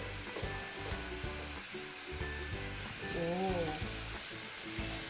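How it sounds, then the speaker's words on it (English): Luchi, a puffed flatbread, deep frying in hot oil to go with beef rogan josh, giving a steady close sizzle and bubbling throughout, with a brief voice remark partway. "Deep fry."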